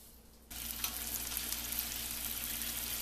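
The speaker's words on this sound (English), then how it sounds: "Pan is nice and hot. We're going to put our fishies in." Red snapper fillets are laid into a hot pan, and a loud, steady sizzle bursts in suddenly and continues close up without pause.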